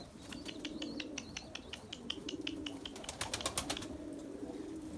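Erzurum white breeding pigeons coo softly in a loft, with a run of sharp chirps and a few wing flaps standing out over steady low background noise, no one speaking.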